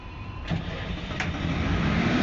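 A vehicle engine cranks and catches at a Saudi Arabian panel installation site, two brief bursts followed by a steady rising low idle rumble, fairly close.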